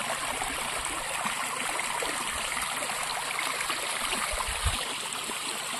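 A mountain stream flowing down from Bhutan near the Assam border village rushes in a steady, close, moderately loud wash of water with small gurgles and no talking.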